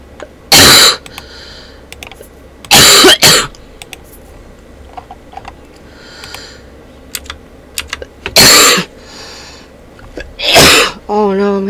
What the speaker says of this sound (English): Having a coughing fit now.